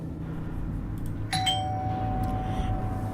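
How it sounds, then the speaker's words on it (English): A doorbell gives a single clear ring, its tone hanging and slowly fading over a steady low background hum. "As you're sipping your coffee, the doorbell rings."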